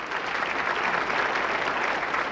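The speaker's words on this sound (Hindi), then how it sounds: "जोरदार तालियां।" An audience at a stage event applauds loudly, a dense continuous clapping from a large crowd that fills the whole moment.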